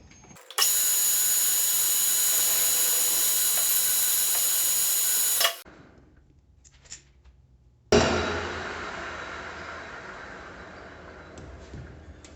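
A lathe rough-turning a polyacetal workpiece down to 16 mm diameter gives a loud, steady broadband whir with a high whine for about five seconds, stops abruptly, then resumes after a quiet pause with a slightly softer sustained run.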